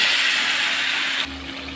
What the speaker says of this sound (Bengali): এবার আস্তে করে মাংসগুলো সব দিয়ে দেব